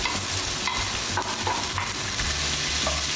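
Sliced mushrooms sauté for osso buco in a hot pan: a loud, continuous sizzle close by, broken by a few brief scraping stirs.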